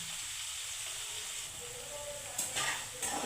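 Chopped onions and three green chillies fry in tempered oil for an Andhra-style okra tamarind stew, a steady close sizzle with brief louder crackles near the end.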